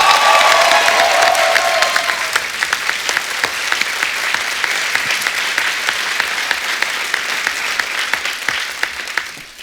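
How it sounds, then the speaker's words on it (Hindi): Loud studio audience applause at a comedy talk show, a sustained crisp clapping that starts with a voice over it and then continues alone, thinning slightly toward the end. "एक बार जोरदार तालियां टाइगर के लिए हो जाए।"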